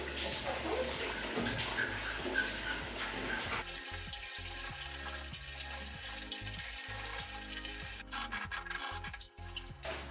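Water running and splashing while rinsing a Crompton Optimus 100-litre desert air cooler during cleaning, a steady hissing spray with rubbing and knocking sounds throughout, loud and close.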